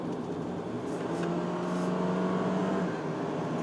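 Engine of a 2019 Toyota Corolla Altis with a CVT, heard from inside the cabin as a steady, moderately quiet drone with a rising tone under constant road noise.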